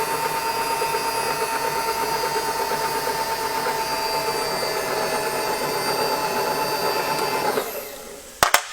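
An end mill cuts a pocket in a cylinder head to seat a nickel alloy valve seat, giving a steady whirring machining tone that holds for about seven seconds, then winds down, followed by a couple of sharp clicks.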